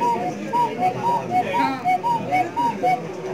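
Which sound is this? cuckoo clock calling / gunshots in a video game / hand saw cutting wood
cuckoo clock calling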